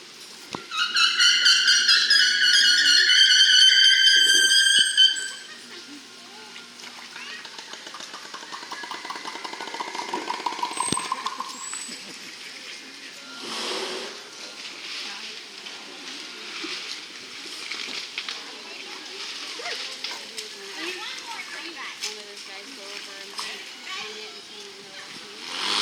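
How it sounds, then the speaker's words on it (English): Killer whales at SeaWorld San Antonio give high, harmonic whistles and squeals for several seconds, then a shorter tonal call follows amid quieter pool and crowd noise. "We're going to get a chance to hear some killer whale vocals"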